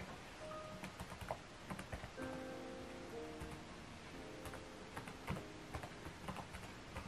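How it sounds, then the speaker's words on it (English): Keys clatter on the keyboard of a 2020 Huawei MateBook 14 laptop with an AMD Ryzen processor, a run of quick, light, irregular taps up close over a faint steady background hum. "what i'm doing right now is typing the email address"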